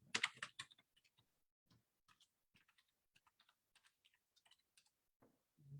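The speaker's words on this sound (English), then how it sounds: "then I just click, and then I can type something like" Typing on a computer keyboard while working with the text tool in Photoshop: a burst of fast, close clicks at the start, then sparse, scattered light keystrokes, with no talking.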